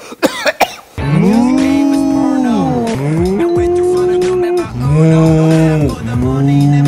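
A person imitates a cow, giving several long, drawn-out moos one after another, loud and close, after a few short throaty sounds at the start.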